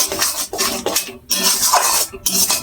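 Ground spice paste is stirred into hot oil in a pan with black cumin, making loud, close scraping strokes of a spatula against the metal in quick repeated bursts with brief pauses.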